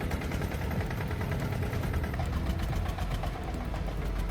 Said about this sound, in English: This is a homemade farm vehicle, but its engine is not to be underestimated.